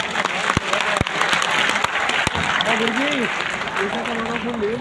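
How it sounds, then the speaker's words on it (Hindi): Seminar audience claps and cheers after being asked to applaud, steady crowd applause with a few sharp nearby claps, while a voice speaks and calls out over it throughout. "एक बार जोरदार तालियां बजाएं"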